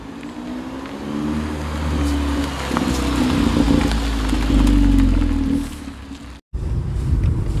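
A 2022 Audi A1 fitted with a Milltek exhaust line revs loudly up close, with a deep droning note that swells and holds, then cuts off abruptly before the engine sound resumes.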